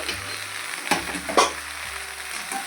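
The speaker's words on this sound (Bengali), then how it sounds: "এবার এই সর্ষে বাটাটা দিয়ে দিচ্ছি, দিয়ে একটু নাড়িয়ে চাড়িয়ে নেব।" Mustard paste is stirred into vegetables in a sizzling pan, the steady frying hiss punctuated by several scraping strokes of a spoon.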